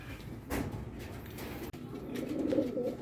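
Pigeons coo softly in an enclosed space, low burbling calls repeating with a faint rustle and a brief knock partway through.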